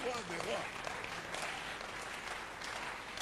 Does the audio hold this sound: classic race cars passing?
no